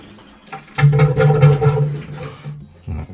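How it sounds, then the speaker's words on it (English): A Maytag washing machine's drain pump empties water, rushing and gurgling, swelling loudly after a brief quiet start, then tapering off with a low mechanical hum underneath. "Now it's getting all the water out."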